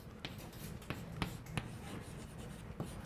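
Mathematical notation for a derivative being written by hand, heard as soft, close scratching strokes with a few sharper taps at irregular intervals over quiet room noise.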